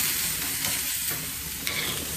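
Aged New York steak sizzles steadily in a hot pan as it is turned, a loud continuous frying hiss with a small crackle burst near the end and no voices.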